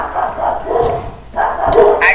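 Several dogs bark in short, uneven bursts at moderate distance, the yaps separated by brief pauses, with faint background noise between them.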